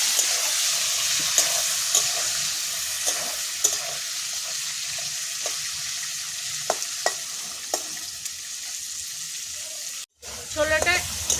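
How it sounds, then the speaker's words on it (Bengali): Raw chickpeas fry in a pan for a vegetarian banana-flower curry, giving a steady close sizzle with scattered scraping stirs and clicks and a brief gap of silence near the end. "কাঁচা ছোলাটা একটু ভেজে নেবো ভালো"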